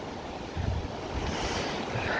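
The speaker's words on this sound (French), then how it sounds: "Il y a les vagues, le vent" Sea waves and wind on a bridge from an island to the town at Shōnan make a steady, full wash of surf and gusting air noise, with no voices.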